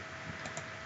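A single computer keyboard key is pressed during a Tinkercad lesson, a soft click heard faintly against a steady background hiss.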